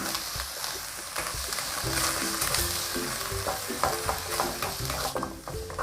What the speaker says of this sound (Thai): แล้วก็ผัดนะคะ ให้หมูสับสุกนะคะ